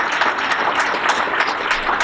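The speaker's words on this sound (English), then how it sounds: "Let's hear it for Amir, everybody" An audience at a live tech event fills the room with steady, dense applause after a fireside chat, a continuous wash of many hands clapping close by without a break.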